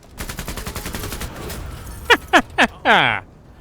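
Gunfire in the early-access strategy game Menace: a dense rattle of rapid shots through the first two seconds, then four loud separate blasts, the last one longer and ringing out.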